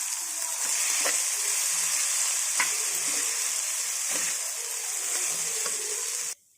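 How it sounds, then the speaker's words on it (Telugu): Rice with soy sauce being stirred in a frying pan for jeera rice, a bright steady sizzle with soft scrapes and taps of the spoon every second or so, close up, ending abruptly, with no speech. "ఇలాగా రైస్ వేసుకొని కలుపుకోవాలి"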